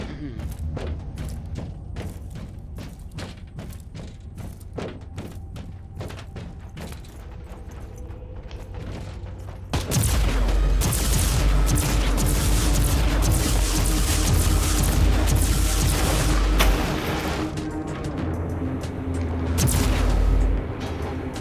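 Gunfire and explosive booms from combat in the video game Warhammer 40,000: Inquisitor – Martyr, a sparse run of sharp shots giving way to a dense, loud barrage of blasts and rumbling impacts, with a voice talking over it.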